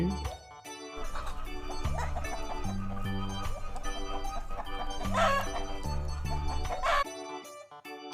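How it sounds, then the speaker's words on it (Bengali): A hen clucks in short bursts over bouncy children's background music, with the music louder than the bird throughout. "এটা হলো মুরগি।"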